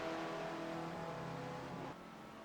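Small open-cockpit Spec Racer Ford race car engine in an iRacing sim race, a steady, faint buzzing drone that dips slightly near the end, heard under commentary.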